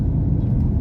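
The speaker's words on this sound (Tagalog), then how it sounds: "Mga pasaway mga nag-tricycle motor dito." Motorized tricycles roll past on a provincial road in Ilocos Norte, giving a close, steady engine rumble and whir with no talk over it.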